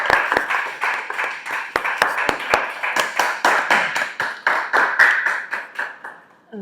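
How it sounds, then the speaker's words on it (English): A small audience at a public speaking session breaks into a round of applause, many hands clapping in a dense, steady patter for several seconds before it fades out near the end. "Give a round of applause."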